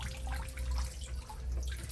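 Water sprays from a shower sprayer nozzle hooked up to a faucet, a soft continuous hiss and splash, faint and close, with no talking.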